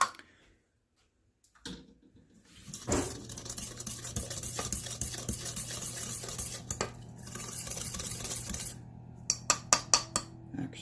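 Muffin batter of oil and chocolate being mixed in a bowl with a dough whisk, a steady scraping, stirring swish lasting several seconds, followed by a few sharp clinks against the bowl near the end, with no talking.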